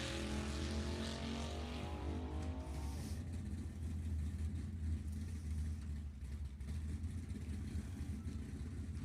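Nostalgia 3 drag race cars roar down the strip at an NHRA Heritage Series event, a loud, steady engine drone that holds for several seconds, with a higher revving tone at the start that drops away.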